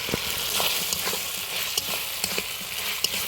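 Masala spice paste sautéing in a pan for a vegetarian paneer dish, a dense continuous sizzle broken by small scraping stirs and pops, close and fairly loud with no talking.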